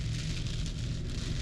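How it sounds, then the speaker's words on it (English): Heavy rain pounding on a vehicle while driving during a downpour of several inches in an hour, a dense, loud, unbroken hiss with low rumble beneath, no voices. "we're having fun driving in the rain."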